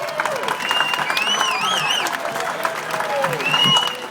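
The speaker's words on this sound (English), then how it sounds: "let's give them all a wonderful round of applause for doing the job that they do" A crowd claps steadily and moderately loud through the whole stretch at an outdoor community event with Frankie Avalon, with whistles and cheers rising over the applause.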